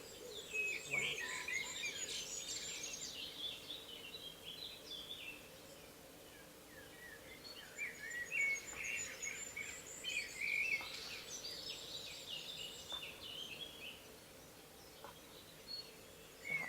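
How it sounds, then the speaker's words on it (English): Birds chirp and sing outdoors in a steady, moderately close chorus, with bursts of high tweets rising and falling across the scene over a faint insect-like background hum. "Perhaps focusing on the birds."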